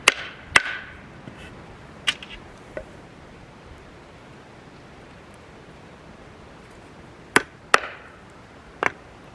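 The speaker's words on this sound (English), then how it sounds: "So you hammer the T-nuts in." Several sharp hammer blows driving T-nuts into a wood block, a couple near the start and a quick cluster near the end, with quiet pauses between.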